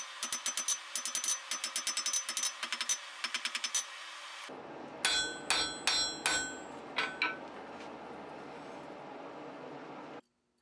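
A blacksmith hammers a steel bar flat for a shop door latch. Quick rhythmic ringing blows come first, then a pause and fewer, heavier strikes over a steady background hum, ending abruptly.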